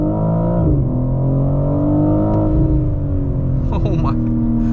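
A 2022 BMW M4 Coupé Competition accelerating at full pedal from inside the cabin, a loud, steady engine drone climbing in pitch through gear changes, with brief talking near the end.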